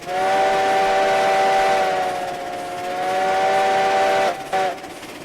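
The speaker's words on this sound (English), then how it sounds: "Great whistle on the Heisler." Heisler steam locomotive whistle in the train game RailRoads Online: a loud, sustained multi-tone chime blowing steadily for about four seconds, briefly cutting off, then sounding again with a short final blast over faint hiss.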